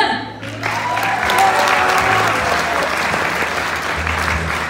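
Sustained audience applause at a 2019 Smoke Free Rockquest music event, steady and dense for the full length, with a low hum and faint tonal noise underneath.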